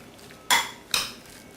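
A utensil scrapes and clinks twice against a bowl as marinated chicken, seasoned with salt and Chinese cooking wine, is mixed, each stroke short and close.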